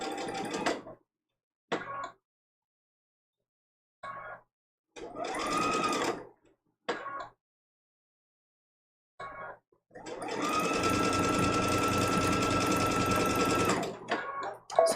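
Domestic sewing machine stitching a quilt block in short bursts of a few stitches and back stitches, separated by silences, then one longer steady run of close rhythmic needle chatter.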